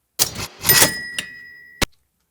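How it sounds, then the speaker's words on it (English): Quick mechanical clatter and a clang of a cash register drawer, followed by a bright ringing bell tone that fades, then a final sharp click. "I used the sound of a cash register."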